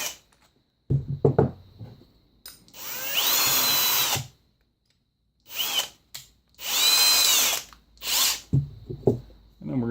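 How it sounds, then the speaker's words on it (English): An electric drill running at slow speed, boring into a block of wood during a test of a freshly sharpened bit, whirs loudly in two long bursts with short pauses and some handling knocks between them. "Put my drill back on slow speed."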